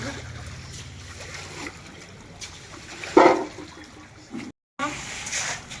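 Water being pushed and swept off a terrace during washing, a steady wash of splashing and trickling with one brief louder slosh, while people talk in the background.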